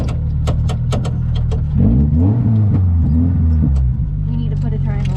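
Rally car engine running at the Ojibwe Forests Rally, a loud close rumble that revs up and down mid-clip with sharp mechanical clicks, while people talk over it.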